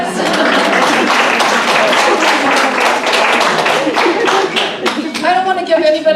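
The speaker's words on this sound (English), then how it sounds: "Can we just give them a round of applause?" An audience at a talk on domestic abuse in affluent areas claps in dense, steady applause that fills the room and then tapers off as a voice comes in at the end.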